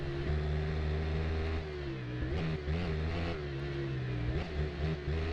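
A Kawasaki Ninja two-cylinder motorcycle in the RIDE racing game accelerates hard, its steady engine drone rising in pitch through several gear changes, loud and close with no voices.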